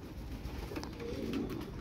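Prized pigeons in a loft give soft, low cooing calls, faint and steady against quiet background noise, with no talk.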